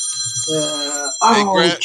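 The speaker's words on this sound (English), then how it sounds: "That's my damn iPhone going off." An iPhone ringtone goes off with bright repeating electronic tones, loud and close, alongside a man's speech.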